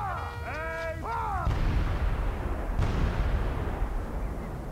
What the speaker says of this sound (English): the nimble gunner with linstock now the devilish cannon touches